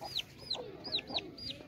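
Chickens clucking in a farmyard with a red rooster among them, several short bright calls in an uneven rhythm at close range, with no voices.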